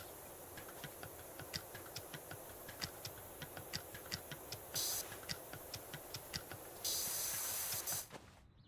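Pressure washer spraying in the video game Powerwash Simulator, a soft continuous hiss with regular ticking and two brief bursts of louder spray, faint and even, with no talking.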